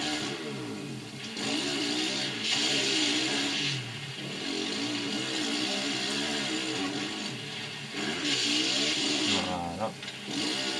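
Motorcycle engine revving and whining through gear changes while riding in the MX vs ATV Alive video game, continuous and fairly loud with rising and falling pitch, a voice talking over it throughout.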